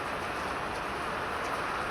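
Steady rain falls outdoors near a home terrace, a soft, even hiss with no other sounds.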